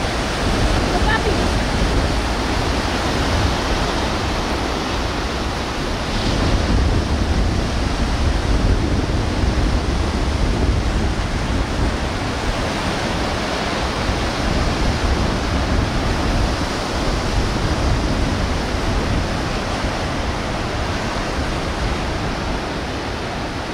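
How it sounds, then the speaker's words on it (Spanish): Strong surf breaking on the beach at Arinaga: a continuous broad wash of crashing waves with gentle swells in loudness, carried on a windy, open shoreline. "Aquí estamos viendo cómo está un oleaje fuerte."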